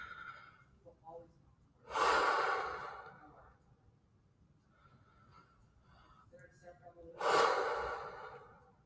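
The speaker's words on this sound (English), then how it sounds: "So take some deep breaths." Two slow, deep breaths from a breathing exercise for stress management, each a long, close, airy exhale swelling and fading, spaced several seconds apart in a quiet room.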